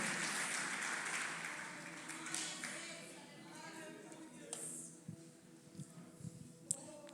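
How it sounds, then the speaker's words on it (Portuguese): Church congregation applauding, a broad wash of clapping that fades out over several seconds into scattered taps and shuffles, with a voice speaking. "Aplauda ao Senhor e se coloque de pé, em nome de Jesus."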